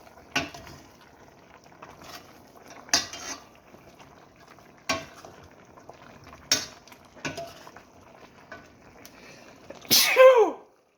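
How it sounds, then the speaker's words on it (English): A person in a home kitchen, cooking pork sinigang with pepper, gives one loud, abrupt sneeze near the end, after a quiet stretch of sparse utensil clinks and taps. "That's a sneeze from breathing in that pepper."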